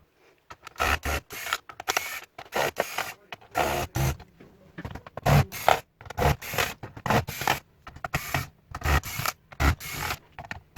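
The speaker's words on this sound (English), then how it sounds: "So now I remove the battery and open all the screw." Screws are worked out of a broken Dell N5110 laptop, a rapid series of short close clicks, scrapes and rattles in uneven bursts separated by brief silences.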